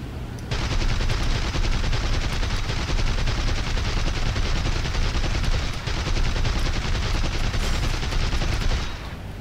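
Aircraft machine guns in War Thunder, H6K flying boat, fire in one long sustained burst: a dense, loud rattling stream of rapid shots running almost the full length, with a brief gap near the middle.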